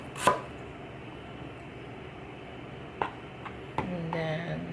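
A knife chops ginger on a cutting board, giving a few sharp, sparse strikes spaced over several seconds, close and moderately quiet, with a faint voice-like tone near the end.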